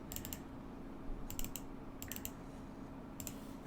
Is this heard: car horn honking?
no